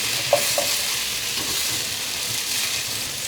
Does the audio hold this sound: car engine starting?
no